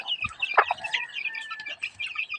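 A flock of backyard chickens with hens and well-grown chicks is fed at midday, and they give busy overlapping clucks and soft peeping calls close up. The sound is steady and continuous, with no one talking.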